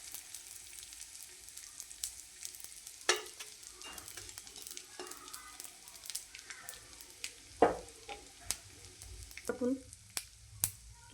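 Edible gum frying in ghee until crisp, giving a soft, faint sizzle with scattered pops and crackles and occasional scraping stirs, close by and with no voices.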